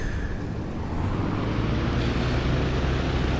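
An old tail-wheel aircraft taxiing on the ground in the DCS flight sim, a loud continuous engine rumble with a steady low drone and no breaks.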